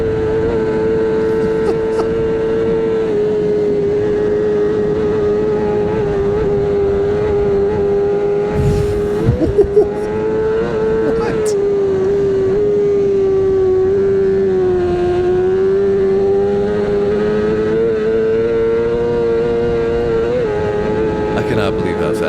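Peter Hickman's superbike at full throttle on the Isle of Man TT course, a loud, steady, high-pitched engine whine that holds for a long stretch with small dips and surges, plus brief wind buffeting.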